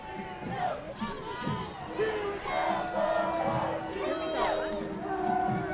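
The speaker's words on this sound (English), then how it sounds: "let's let them cheer for us." Utah Utes fans cheer and shout from a crowd along the Rose Parade route, an overlapping babble of voices with chanting and yells rising and falling at moderate distance.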